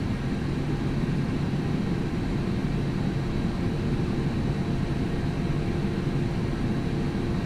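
An Air China airliner taking off from the runway at Taoyuan airport, a steady, heavy engine roar with broad rumble that holds level throughout.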